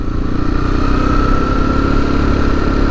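A vehicle engine hums steadily while driving on the new road from Debar to Tirana, a loud, continuous low drone with no talk over it.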